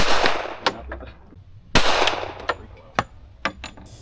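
A real gun fired at an outdoor range in Austin, Texas, with two loud sharp blasts about a second apart, followed by several lighter distant pops and clanks.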